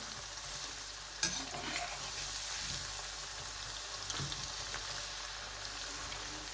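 Spicy potato wedges sizzle in oil over a high flame with a steady crackling hiss, and a sharp knock or stir clatter comes early on.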